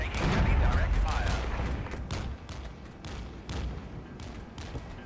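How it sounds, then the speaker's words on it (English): Heavy gunfire and explosions from the Cold War strategy game Regiments: a loud opening rumble of overlapping shots, then repeated sharp cracks and bursts in irregular volleys, with game voices talking over the fire. "Taking heavy direct fire."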